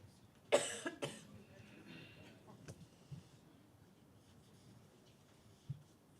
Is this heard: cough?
yes